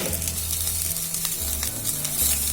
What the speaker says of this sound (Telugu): కరివేపాకు, జీరా, ఉప్పు ఇలా వేయించుకున్నామండి